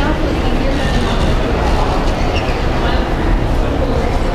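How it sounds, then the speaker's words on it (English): A toy train running in a giant gingerbread display in an IKEA lobby rumbles and clatters steadily throughout, with a continuous busy wash of noise and people talking faintly in the background. "This is like a giant gingerbread setup with a train."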